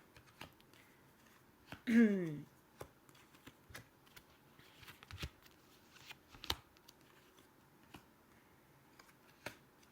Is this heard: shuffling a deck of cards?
yes